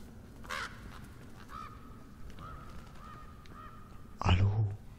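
Raven cawing in The Last of Us: Left Behind video game, a few harsh caws spread across a few seconds over low ambient background, ending in a louder burst.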